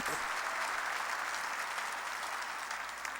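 Church congregation applauding during a sermon, a steady, even roll of many hands clapping, moderately distant and without talk over it.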